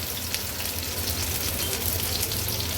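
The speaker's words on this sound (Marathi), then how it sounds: "आता लो टू मीडियम फ्लेमवर हे कबाब व्यवस्थित आपल्याला फ्राय करून घ्यायचे आहे." Chicken malai seekh kebabs fry in a pan over a low-medium flame, a dense, even sizzle that holds steady and close for the whole stretch with no voices.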